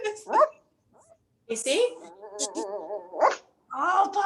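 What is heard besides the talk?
puppy barking and growling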